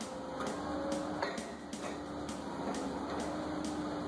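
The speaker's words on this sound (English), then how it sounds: "The rig screws itself in loosely, and then another wrench moves in place to help tighten it" A well drilling rig spins a 20-foot shaft section into place and tightens it, giving a steady mechanical whir with regular clanking ticks about twice a second.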